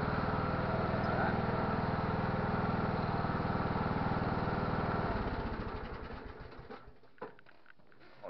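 A tractor engine runs steadily on a farm beside a chicken enclosure, a close, even mechanical drone that is then shut off and fades into quiet with a few faint knocks.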